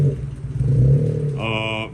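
A car engine revs loudly and roughly, sounding in poor shape, then climbs in pitch into a strained whine near the end; a voice talks at the same time.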